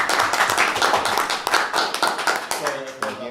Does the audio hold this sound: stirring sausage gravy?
no